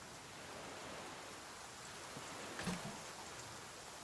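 Rain falls steadily in the video game The Flame in the Flood, a faint, even hiss of drops with one brief soft knock partway through and no voices.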